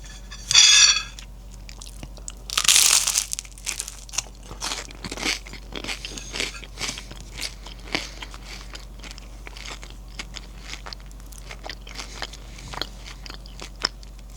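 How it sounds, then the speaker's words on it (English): Loud crisp crunches of biting into crunchy sourdough toast, two big bites followed by steady chewing crackles, close up with no talking. "This is some very crunchy sourdough toast."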